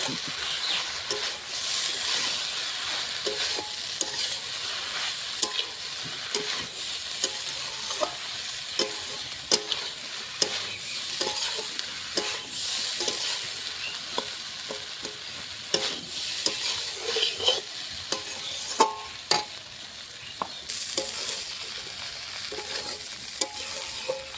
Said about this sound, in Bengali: একটু লঙ্কা গুঁড়ো, একটু জিরে গুঁড়ো, একটু গরম মশলা গুঁড়ো। আমার সবজিটাকে আমি ভালো করে ভেজে নেব।